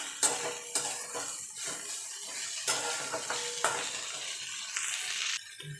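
Neem leaves and eggplant stirred in a frying pan, a spoon scraping and clinking against the metal in several distinct strokes over a soft sizzle, close and fairly quiet with no talking.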